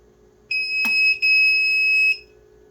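A poultry egg incubator for guinea fowl and chicken eggs gives a clear electronic beep, steady and ringing for about a second and a half with a brief break and a soft click, as its buttons are pressed to reset the timer.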